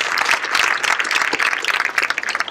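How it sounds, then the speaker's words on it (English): A school audience gives a dense round of applause welcoming the chief guest, loud and sustained throughout with many hands clapping at once. "Please welcome her with a huge round of applause."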